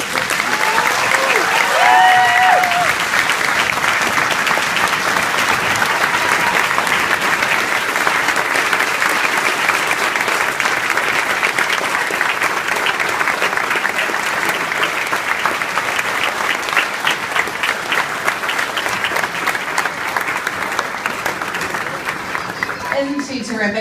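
Audience applause for an honored hero after a speech at a live event, loud sustained clapping from a large crowd that carries on for over twenty seconds, with a voice briefly audible near the start.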